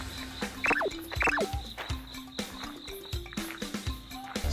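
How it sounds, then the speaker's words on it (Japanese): A frog calls at night on Iriomote Island, two short rising chirps standing out near the start over a steady background of nighttime insects and rustling, with no voices. "あ、カエルや。"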